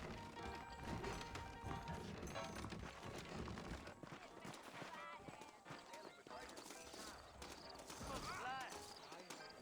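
Horse hooves clip-clopping in the Western video game Red Dead Redemption, a steady rhythmic patter running under game music, ambient noise and occasional voices throughout.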